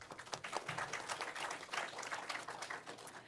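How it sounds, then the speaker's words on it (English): Audience members at a Democratic town committee candidates forum applaud a candidate, quiet and somewhat distant clapping that swells and fades over a few seconds. "Let's give him a round of applause."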